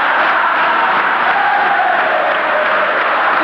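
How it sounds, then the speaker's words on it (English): A packed high school gym crowd roars during a 1987 basketball semifinal, a loud, sustained wall of cheering and yelling that stays level throughout. "The MTA crowd going crazy."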